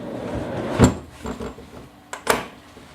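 A wooden tool drawer for heavy gear in a camper's storage sliding and knocking shut, giving a couple of distinct thuds and clunks with quieter rubbing between them.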